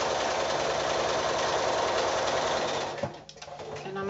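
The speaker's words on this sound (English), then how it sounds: "There, so I've done three lines of sewing in that strip" A sewing machine quilting lines of stitching through a fabric strip with fine cotton thread runs in a steady, loud, even whir, then stops abruptly near the end, leaving a brief click and quiet.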